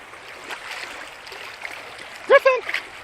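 A dog swims through Oklahoma floodwater, giving a steady wash of splashing and churning water close by, with a short burst of voice near the end.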